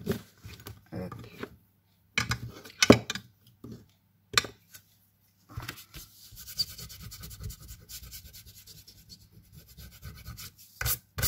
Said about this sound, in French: On vient de enlever le trait de crayon.